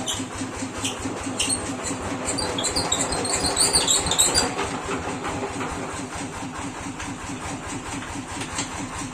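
A tractor's diesel engine runs steadily at idle, a dense low rumbling drone with rapid mechanical ticking and some higher whine on top, loud and close throughout with no speech.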